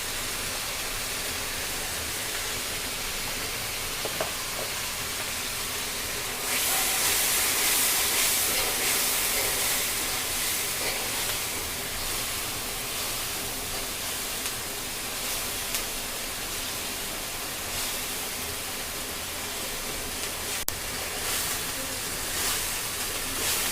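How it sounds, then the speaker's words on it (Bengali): Masala with turmeric and chili powder fries in a pan for a koi fish curry with potatoes and lentil bori, giving a steady hissing sizzle that swells louder after a few seconds and continues without talking. "আমার মশলা ভাজি হয়ে গেছে"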